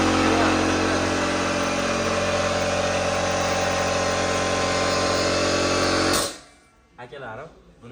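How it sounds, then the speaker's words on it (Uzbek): A Titan brand motor-driven air compressor runs loud and steady for about six seconds, then cuts out abruptly, leaving only faint background noise. "bitta motorli ovozli Titan firmamizga tegishli kompressorimizda ko'rib chiqamiz"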